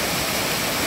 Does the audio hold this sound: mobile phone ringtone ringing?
no